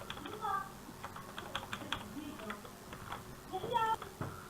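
Typing on a computer keyboard while working in Oasis Montaj geoscience software, with a run of quiet, close key clicks spread through the clip under faint background noise.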